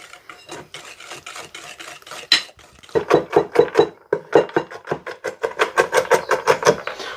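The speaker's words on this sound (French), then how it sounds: "On hache grossièrement, on ne se casse pas la tête" A knife coarsely chops brownie ingredients on a board in a steady run of rapid, rasping strokes, close and clear, growing louder and quicker partway through.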